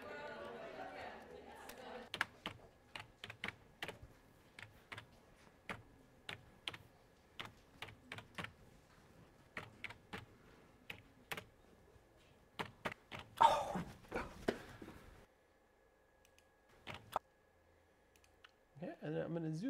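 Sharp, separate key presses tap steadily on a computer keyboard during film sound editing, the arrow keys among them. A voice is briefly heard near the start and the end.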